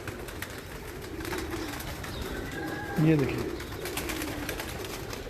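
A pigeon gives one brief, fairly close coo partway through, a short descending call over a busy background while someone speaks.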